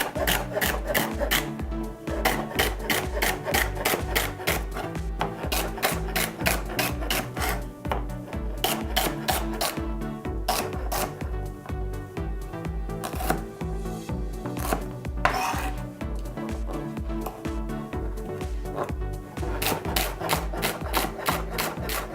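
A knife chops through celery stalks on a cutting board, two at a time, in fast regular bursts of crisp thuds with short pauses between runs, close and loud with no talking.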